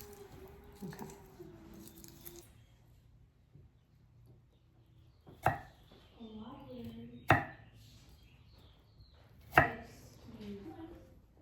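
A knife chopping food on a board in a quiet home kitchen, three sharp isolated thuds spaced a couple of seconds apart, with soft speech murmuring between them.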